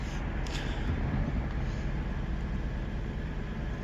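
A train approaching on a Michigan line, heard as a steady broadband rumble and roar that holds at an even loudness throughout, with no voices over it.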